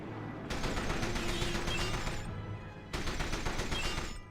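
Gunfire from the video game 007: From Russia With Love, with two sustained bursts of rapid shots separated by a short pause, loud and close against a steady game background.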